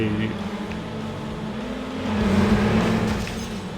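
Racing cars' engines drone and rev in the Sega Dreamcast off-road racing game 4X4 Jam, a continuous mid-loud whine that swells toward the end, with someone talking over it.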